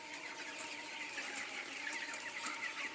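Chickens suffering from a cold for about three days, kept huddled in a winter coop, give soft, steady clucking that runs alongside a constant background hum.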